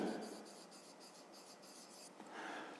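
A pen scratches on paper in a quiet room, with a steady run of short strokes and a brief pause near the end as a math exercise is written out by hand.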